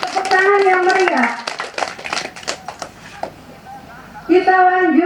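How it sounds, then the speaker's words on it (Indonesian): Audience applause at a children's drawing contest prize-giving held by a travelling book-box literacy group: scattered claps between stretches of harmonic singing or music, with voices present. "Kasih tepuk tangan yang meriah."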